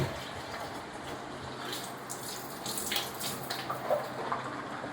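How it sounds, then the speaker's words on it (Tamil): Water poured out during kitchen cleaning, mixed with a multipurpose cleaner to lift oil stains, making a steady soft splashing wash that runs the whole time with a few brighter drips and splashes near the end. "நான் தண்ணி ஊற்றியாச்சு."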